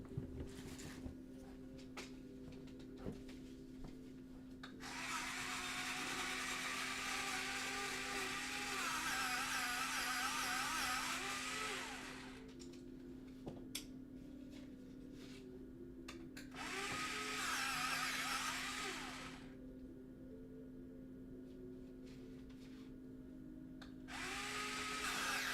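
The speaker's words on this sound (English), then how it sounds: "let me go and sharpen these pencils real quick" Electric pencil sharpener grinding pencils in three separate bursts of several seconds each, a high whirring buzz with pauses between, over a constant low electrical hum in a quiet room.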